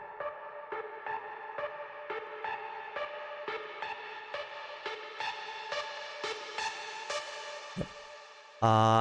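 A synth arpeggio pulses in a steady, constant run of even notes for several seconds, bright and mid-loud, before a sudden louder sound cuts in at the very end.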